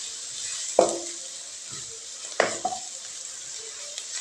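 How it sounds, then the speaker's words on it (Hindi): Onion, ginger and garlic masala frying in a pan, a steady soft sizzle with two sharper clinks of a spoon against the pan, close and moderately quiet with no voices. "तो हमारा मसाला जो है वो तैयार हो रहा है, भुन रहा है।"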